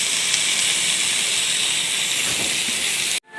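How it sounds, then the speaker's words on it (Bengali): Potatoes with a little turmeric and salt fry in hot oil, producing a loud, even, continuous hiss that cuts off abruptly at the end. "আলুগুলিকে সুন্দরভাবে ফ্রাই করে নিচ্ছি"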